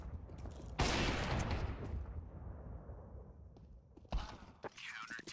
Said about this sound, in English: Nice long-range shots out of the M4 and the AWP.